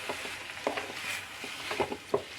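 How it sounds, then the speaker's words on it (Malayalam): Spinach is stirred in a pan for egg thoran, with soft scraping and light sizzling strokes at close range, quiet and intermittent, with no talk. "നമുക്ക് ചീര ഒന്ന് ഇളക്കി കൊടുക്കാം"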